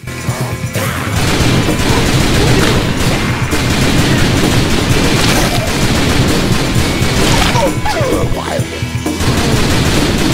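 Dense game gunfire in The Typing of the Dead: Overkill, loud rapid overlapping shots and crashes filling the whole stretch with brief dips, heavy action effects and no clear talk.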